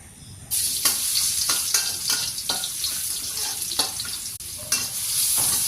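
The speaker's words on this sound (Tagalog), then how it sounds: "gisa na natin yung sauce" Sweet and sour sauce for tilapia sautéing in a pan, with a steady sizzle, repeated stirring scrapes and clinks, and a faint trickle of water near the end.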